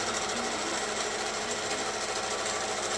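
A computerized quilting machine stitches a pattern into a quilt with a loud, constant, rapid mechanical chatter of needle strokes that runs evenly throughout without pause.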